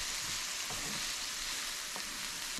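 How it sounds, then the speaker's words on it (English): Pressed garlic frying in a skillet, a soft continuous sizzle with a few faint stirring scrapes, quiet and steady throughout. "Mix the garlic in and cook it for about another minute"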